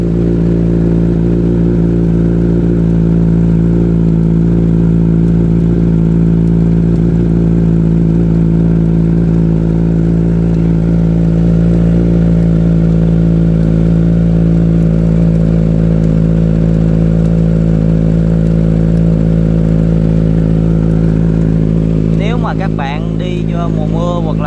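A motorcycle engine idles steadily and loudly, a low even rumble throughout, with faint clattering near the end.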